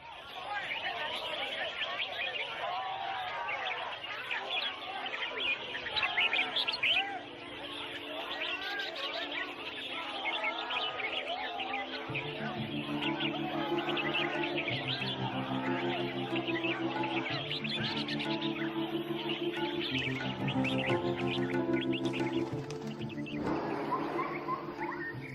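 Exotic birds at a bird singing competition, many chirps and trills overlapping in a busy chorus, joined partway through by steady sustained tones and crowd babble.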